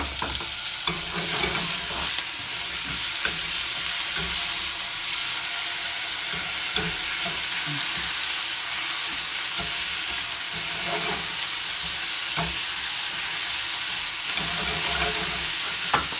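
Mushrooms and tofu sizzle in a hot pan as they are stir-fried, a loud continuous frying hiss with scraping stirs and occasional clinks, no talking.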